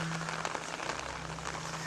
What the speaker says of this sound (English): hope this rain subsides so I can put the tent back in the car